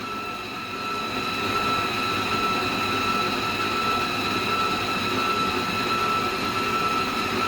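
An electric mixer running at medium speed through cream cheese pound cake batter, a steady whirring motor hum with a clear sustained whine and an even level throughout.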